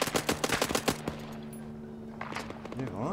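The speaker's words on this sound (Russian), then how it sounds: "По нам стреляют! Сзади!" Rapid automatic gunfire from Arma 3 rattles out close in a fast burst of sharp shots, stops, then picks up again with scattered shots near the end, with some faint engine-like tonal hum underneath.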